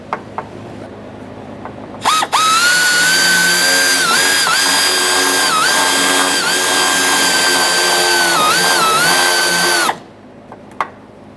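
A power driver with an 8mm socket tightening a hose clamp on the fuel filler neck of a 1992-1996 Toyota Camry, a loud close whine held for about eight seconds with slight pitch dips, then stopping abruptly.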